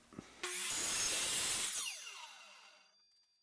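A miter saw set to 45 degrees spins up and cuts through a wooden board with a loud, close roar. Its blade then winds down in a falling whine, and no voices are heard.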